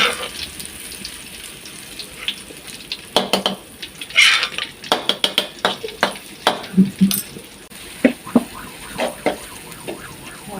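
Garlic stir-fried in a pan for a clam and basil stir-fry: a soft sizzle beneath repeated sharp clinks and scrapes of a utensil against the pan, growing busier in the second half, with no talking.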